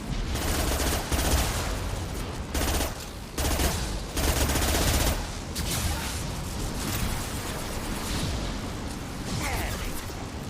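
Heavy weapon fire in the Mass Effect 2 video game includes high impact shots, a dense, loud barrage of overlapping bursts and booms that continues with brief gaps through the whole stretch.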